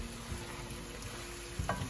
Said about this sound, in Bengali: এখন এগুলো ভালো করে নাড়িয়ে দেওয়া হবে।